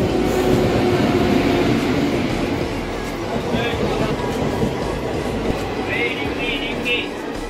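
Passenger train at Bhadaura station in India, a continuous rumbling with rail clatter and a few faint squeals, heard close by while people talk over it.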